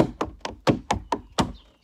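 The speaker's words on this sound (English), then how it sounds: "you're going stamp with the full foot" Tap shoes stamp with the full foot during a tap dance step: six sharp, close knocks in a steady, even rhythm, with nothing else heard.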